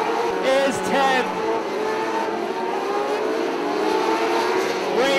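TQ midget race cars racing on the oval at Borgers Speedway, a continuous dense roar of several high-revving engines with pitch sweeps as cars pass, loud throughout and blended with crowd and announcer noise.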